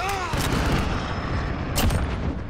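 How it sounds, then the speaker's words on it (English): Gunfire from a shotgun in the shooter Call of Duty: Modern Warfare, a couple of loud sharp blasts amid dense, noisy in-game battle sound. "I think he hit me with this shotgun."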